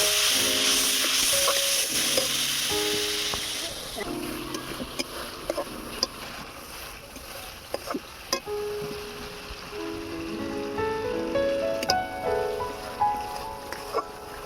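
Ground cumin, coriander, chili and garam masala fry with a splash of water for a jackfruit and potato curry, a steady sizzle that swells and fades as a spoon stirs and clinks against the pan.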